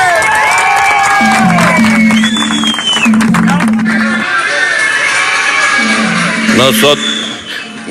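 A large street crowd at a PSUV political gathering in Venezuela applauds and cheers loudly and continuously, with whoops and shouting voices, while music plays underneath throughout.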